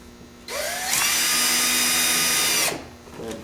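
A cordless power drill whirs up and holds a steady high whine for about two seconds while driving screws into a golf cart light kit on an EZGO TXT, then winds down and stops.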